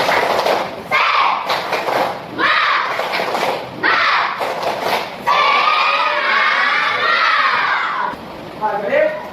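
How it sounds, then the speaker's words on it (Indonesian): Children in a classroom perform a rhythmic spirit clap, bursts of patterned group clapping broken by brief pauses, followed by loud shouting and cheering voices, all close and energetic. "Oke, tepuk semangat."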